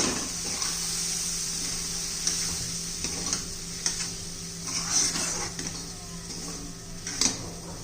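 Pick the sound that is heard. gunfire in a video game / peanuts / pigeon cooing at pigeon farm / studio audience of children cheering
peanuts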